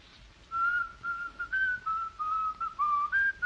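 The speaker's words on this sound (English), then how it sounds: "a scrap of music whistled in the night" A single person whistles a wandering tune alone, clear, close, and fairly soft, in phrases broken by short pauses.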